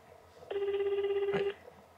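A telephone rings once on speakerphone, a single steady electronic tone lasting about a second. It is fairly faint and has a faint hum behind it.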